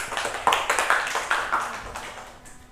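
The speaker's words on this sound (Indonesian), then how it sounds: "Beri tepuk tangan untuk kita." A short burst of classroom applause: scattered hand claps from a small group, fairly close, fading out after about two seconds.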